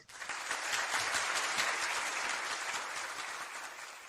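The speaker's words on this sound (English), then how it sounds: "I can actually do some claps" Dense, steady applause fills about four seconds, standing in for a round of clapping for the winner of a Minnesota Vikings midseason award on a live show; it is loud and continuous, with no voices over it.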